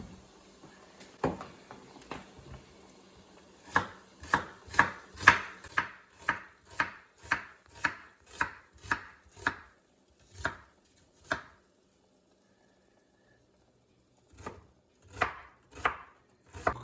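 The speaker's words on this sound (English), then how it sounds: "we got our onions cut" Onions and celery being chopped with a knife on a cutting board: a quick run of crisp, evenly spaced chops, a short pause, then a few more, close and clear with no talking.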